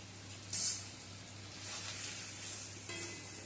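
A paste of tomato and ground spices fries in a pan with a soft, steady hiss and sizzle, opened by a short bright spatter burst and running faint and even afterward.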